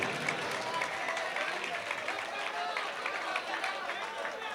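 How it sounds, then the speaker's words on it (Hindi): An audience at a Hindi-Urdu shayari recital claps together after a poet's patriotic verse, a sustained crowd applause with scattered chatter running steadily throughout. "ताली बजाइए।"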